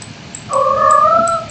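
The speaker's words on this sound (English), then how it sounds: "Don't you start going on meowing fits." A pet cat lets out a drawn-out, rising meow of about a second, fairly close and clear, with no talking over it.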